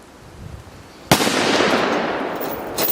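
Russian Mosin rifle fired at a boxed iPhone Xs: one sharp, loud shot that cracks out after a quiet lead-in and rings on in a long echoing tail.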